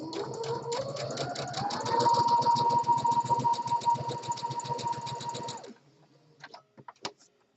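A sewing machine stitches a one-inch seam allowance in fabric, a close, steady rapid whirring hum with a rising pitch as it speeds up, running about five seconds before stopping, followed by a few light clicks.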